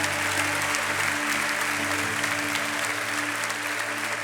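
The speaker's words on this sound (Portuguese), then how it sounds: "dê uma salva de palmas ao nosso Senhor" Congregation applause at a WE ARE ONE 2025 church worship service, a steady dense wash of many hands clapping throughout, loud and continuous, with sustained musical tones underneath.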